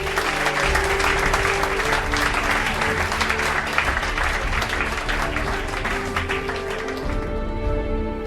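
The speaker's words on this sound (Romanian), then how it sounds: "Vă rog să aplaudați!" Audience applause at a JCI gala, steady and full clapping throughout, with music playing underneath and easing off near the end.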